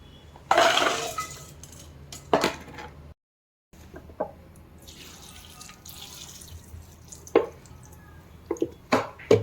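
Chillies being washed under a tap at home, with water splashing and dripping in short bursts, small clinks and sloshes between quiet gaps, close-up and moderately loud.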